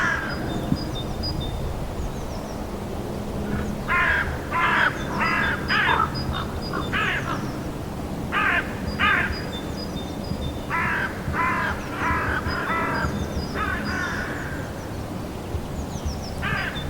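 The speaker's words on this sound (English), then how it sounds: "In amongst the familiar cawing calls of the crows, can you hear the cronking calls of the ravens?" Repeated harsh crow caws in bursts, several crows calling over steady background noise, with occasional deeper croaking calls of ravens mixed in.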